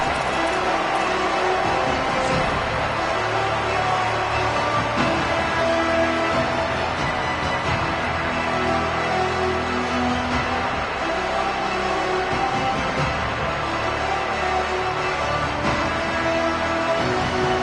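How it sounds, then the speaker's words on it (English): Football stadium crowd keeps up a continuous loud roar with swelling cheers, with commentators talking over it throughout. "This crowd ready to make its presence known."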